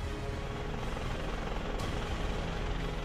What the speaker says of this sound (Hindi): सुबह हिंडन एयरबेस से उनका हेलीकॉप्टर नोएडा के बोटेनिकल गार्डन हेलीपैड पर उतरा